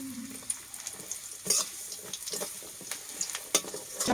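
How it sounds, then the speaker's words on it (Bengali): Bori lentil dumplings frying in hot oil in a kadai, a soft steady sizzle with occasional crackles and the faint scrape of a stirring spoon, close and fairly quiet, with no talk. "আমি ওই তেলে একটু বেশি বড়িগুলো একটু ভেজে নিচ্ছি"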